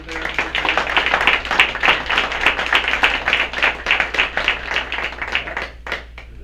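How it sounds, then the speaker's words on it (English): Audience at a school board meeting gives a round of applause, dense steady clapping from many hands in a room that tapers off toward the end, with a murmur of voices beneath. "If we could give them a round of applause"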